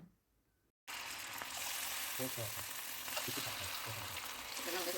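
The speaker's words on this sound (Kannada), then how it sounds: "ಇಲ್ಲಿ ಎಣ್ಣೆ ಕಾದಿದೆಯಾ ಅಂತ ಚೆಕ್ ಮಾಡ್ತಾಯಿದ್ದೆ, ಅದಕ್ಕೆ ಒಂದು ಪೀಸ್ ಹಾಕ್ಬಿಟ್ಟು ನೋಡ್ತಾ ಇದ್ದೆ" A piece of marinated kebab hits hot oil and a close, bright sizzle bursts in abruptly after a brief quiet moment, then crackles steadily.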